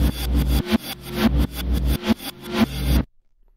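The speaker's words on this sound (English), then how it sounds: "So let's reverse the sound." An audio region played backwards in Logic Pro gives an engine-like recording with a run of swelling, pulsing surges that each cut off abruptly, loud and close, then falls to near silence; nobody speaks.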